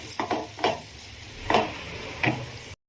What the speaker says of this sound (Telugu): ఇవి కొంచెం ఫ్రై అయిన తర్వాత ఇందులోకి 1/2 టేబుల్ స్పూన్ వరకు అల్లం వెల్లిగడ్డ పేస్ట్ని యాడ్ చేశాను. ఇది పచ్చివాసన పోయేంత వరకు మనం ఫ్రై చేసుకోవాలి.